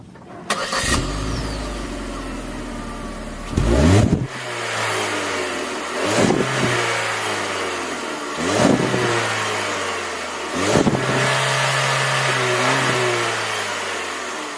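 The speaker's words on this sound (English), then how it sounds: "0 to say 30, 35 miles per hour, it zooms, it goes fast." A 2014 Chevy Spark with a CVT accelerates hard from a stop, its small engine revving up in repeated rising surges, each followed by a drop in pitch, heard loudly from inside the car.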